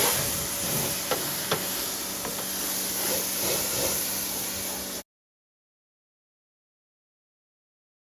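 Water sprays in a steady, loud hiss while a Foxbody car is rinsed, with a few faint clicks in the spray before it cuts off abruptly into silence.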